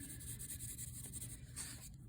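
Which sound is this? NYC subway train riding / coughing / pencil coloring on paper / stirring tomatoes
pencil coloring on paper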